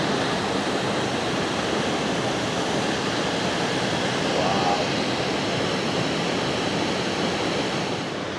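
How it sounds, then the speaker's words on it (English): Iguazu Falls in Brazil, a massive waterfall heard as a steady, dense roar of rushing water filling the whole clip without pause. "over there are the waterfalls I saw when I first arrived"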